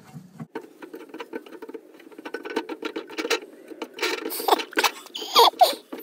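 A spare tire hold-down is unscrewed in a car trunk, with close, rapid rattling clicks and scraping that grow louder and busier toward the end.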